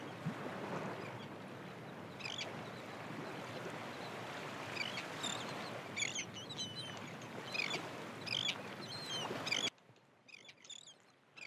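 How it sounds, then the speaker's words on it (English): Repeated high, sharp seagull cries from the video game Clash Robot Detective ring out over a steady broadband wash like surf or wind, then continue briefly against near silence at the end. "That damn seagull was loud."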